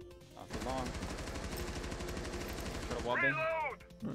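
Rapid automatic gunfire in Rainbow Six Siege, fired through a wall, rattles loudly for about two and a half seconds, then stops as a voice talks over the game sounds.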